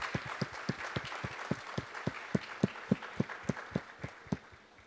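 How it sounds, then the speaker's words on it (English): Audience clapping hands in unison at a school awards event, about seventeen sharp, evenly spaced claps over a steady murmur of room noise, moderately loud and fairly near. "Let's clap our hands."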